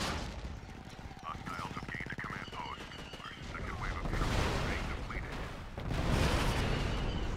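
Star Wars Battlefront 2 gunfire crackles in rapid, repeated blaster and machine-gun bursts, loud and close, with swelling bursts of noise later; a voice talks briefly over it.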